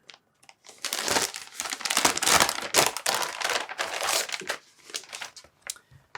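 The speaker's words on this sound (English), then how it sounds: "I think I just need to rip this open." Packaging for an Olixar iPad Pro keyboard case is ripped open by hand, producing loud, close crinkling and tearing in irregular bursts over several seconds.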